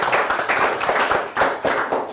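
A class of students claps their hands together in a near, fairly loud burst of quick, uneven claps that rise and fall in a few surging waves, with no talking over it.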